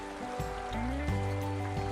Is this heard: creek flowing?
yes